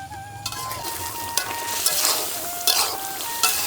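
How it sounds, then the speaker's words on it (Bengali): Meat stir-fried in a pan for kosha, a steady loud sizzle with scraping stirs and spoon clinks repeating every second or so. "মাংস কষানো হয়ে গেছে"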